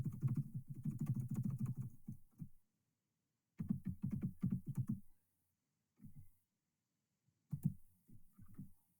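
Fingers type on a computer keyboard in quick, close bursts of clicking keystrokes, separated by pauses of silence, with several rapid runs followed by shorter sporadic taps.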